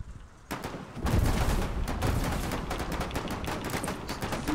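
Rapid gunfire from a Foxhole battle, where a field mortar is firing; dense repeated sharp cracks and booms, loud and continuous after a brief quiet start, with no talking.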